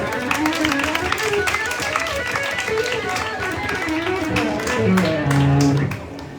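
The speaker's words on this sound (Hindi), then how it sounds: "तालियां, जोरदार तालियां।" A congregation at an evangelism meeting in Azam Basti, Karachi claps loudly in a steady, dense wash of applause, with voices and music mixed in throughout.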